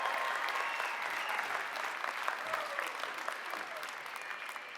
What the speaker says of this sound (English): Yeah, that deserves a cheer.